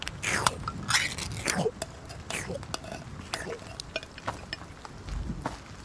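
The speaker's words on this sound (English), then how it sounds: "I just had you guys listen to me just slurping some balls." Wet, crunchy slurping and biting bursts of eating in the survival game Road to Vostok, close and irregular, with soft breathy voice sounds between them.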